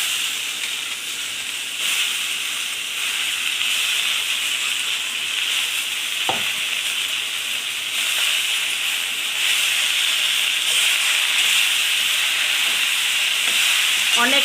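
Fried fish pieces drop into a pan already holding turmeric, salt and green chilies for a Bengali puishak-and-fish-head dish, setting off a steady broadband sizzle and hiss that runs throughout with occasional clinks of stirring, no voices.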